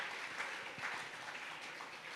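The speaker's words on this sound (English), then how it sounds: "Could we have some applause for that?" Audience applause after a reading at a young-adult writing panel, a steady wash of many hands clapping throughout, moderately near and unbroken.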